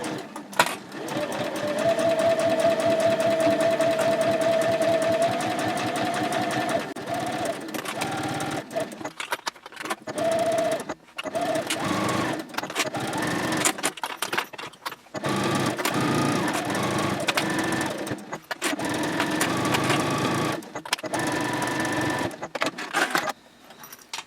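A sewing machine topstitches around the outer perimeter of a fabric sling at a 3.0 stitch length, an eighth of an inch from the edge. Long, steady runs of whirring stitching are broken by brief pauses and stops.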